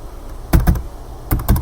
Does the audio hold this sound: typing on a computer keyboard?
yes